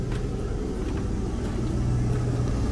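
Engine of a 2002 Holiday Rambler Vacationer motorhome idling with a steady low rumble, close and continuous, with no change in pitch and no talk over it.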